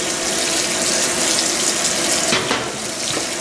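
Water pours steadily into a restored Fisher & Paykel washing machine as it fills, a loud, continuous hissing rush with no pauses and no voices.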